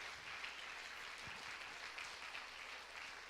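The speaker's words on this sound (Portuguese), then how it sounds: "Quem pode dar uma salva de palmas pela vida de Pedrão?" A church congregation applauds together, a steady even wash of clapping from many people that continues throughout without talk on top.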